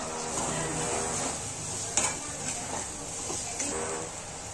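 Onion and tomato sauté with salt in a pan for a chickpea curry, a soft steady sizzle under intermittent stirring scrapes and a few clinks of a spoon on metal, heard close and fairly quiet.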